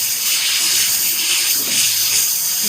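Whole cumin seeds dropped into hot oil in a wok, giving a loud, close, continuous sizzling hiss that holds steady throughout.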